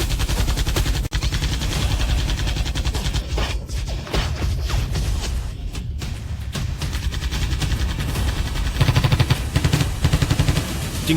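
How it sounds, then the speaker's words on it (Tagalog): Rapid, dense gunfire from a Blue Fire Gatling gun in an animated fantasy series, a loud continuous roar of shots lasting the whole stretch with bursts and crackles layered over a heavy low rumble. "Gamitan mo siya ng Blue Fire Gatling gun na yan para malaman niya kung ano ang totoong lakas nitong mga bala"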